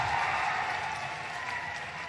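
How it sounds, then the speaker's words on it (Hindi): Crowd applause at a political rally in Dibai, Bulandshahr, during an election address: a dense, steady wash of clapping from a large gathering that holds evenly throughout. "अब ताली बजा दो"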